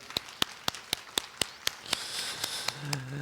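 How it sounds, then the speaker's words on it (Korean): A church congregation claps in a steady, even rhythm, about a dozen sharp claps in close succession, with a faint tone entering near the end. "우리 하나님께 감사와 영광의 박수 올려드리겠습니다."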